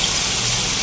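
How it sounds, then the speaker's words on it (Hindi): Water gushes steadily into a pan of potato and pea curry, a loud, close, continuous pour with no talking. "भूनने के बाद मैं इसके अंदर पानी डालूंगी ताकि इसकी अच्छी से ग्रेवी तैयार हो जाए।"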